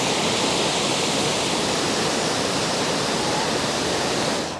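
Black Brook at Bugsworth Basin, a canal basin near Whaley Bridge, rushing steadily as a dense, close wash of flowing water, even and unbroken throughout with no voices.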